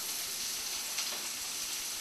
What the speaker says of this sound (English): So I'm going to add in my onions now.